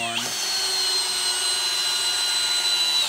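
Milwaukee 2704 drill in drill mode at speed 1 driving a 7/16 inch lag screw: a steady, loud, continuous motor whine that spins up at the start and holds level throughout, close by with no talking.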